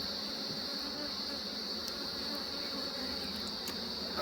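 Honey bees hum in a steady, dense drone around an open Flow Hive during an inspection, close and continuous with a few brief higher buzzes passing by.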